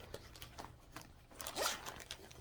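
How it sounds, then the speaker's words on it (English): A zipper on a big leather tote bag is pulled in one short, quiet zip after some soft handling sounds. "It has a zipper here so you can put some things here."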